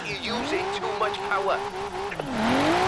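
Cars drifting in Forza Horizon 4 during a multiplayer tandem drift session, with engines revving and tires squealing in long sliding sweeps, loud and steady, while someone talks excitedly over it.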